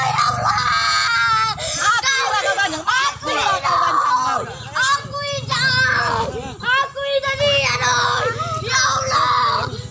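A child screams and cries while being beaten by an adult neighbor, with loud, continuous wailing and pleading cries, some overlapping voices and sobbing throughout, close and intense.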